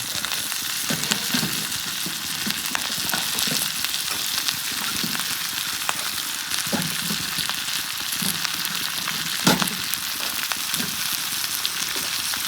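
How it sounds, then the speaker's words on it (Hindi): Finely chopped potato and onion fry in a pan for a Manipuri fish head and intestine fry, giving a loud, continuous close sizzle with occasional stirring scrapes and no talking. "थोड़ा सा फाइन चॉप आलू और थोड़ा सा प्याज डालेगा।"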